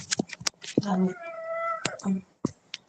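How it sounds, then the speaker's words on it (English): A cat meows, a clear drawn-out cry near the middle, with short rustles and clicks around it. "this is a cat."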